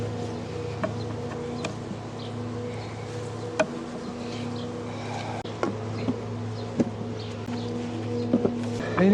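Honey bees buzz around a hive during spring colony splits, a steady close drone of many wings with individual bees zipping past the microphone, with no voices.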